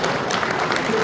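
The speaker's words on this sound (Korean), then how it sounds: "우리 큰 박수 쳐주시기 바랍니다." Audience applause at a church men's association national convention worship service: a dense, steady wash of clapping from a large crowd, sustained at an even level throughout with no talk.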